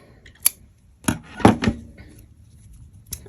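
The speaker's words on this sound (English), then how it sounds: "then you can just trim them" Scissors trim crochet thread tails on a beaded star ornament: a few crisp, close snips spaced irregularly across a quiet moment.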